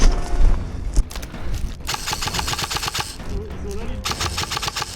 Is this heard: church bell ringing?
no